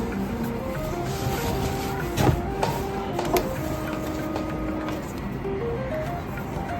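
A sewing machine runs continuously while stitching a border strip onto a baby quilt, a steady mechanical whir with faint clicks and a few brief knocks, close by, with no talk.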